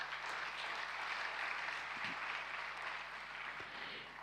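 A church congregation at a worship service applauds for Jesus Christ, a steady wash of clapping from many hands that holds for several seconds, moderately distant and slightly fading at the end.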